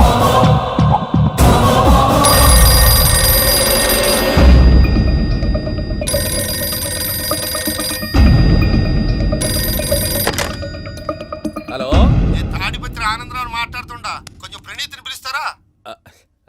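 Telephone bell rings loudly in repeated long bursts separated by short pauses, then stops near the end as brief scattered noises follow.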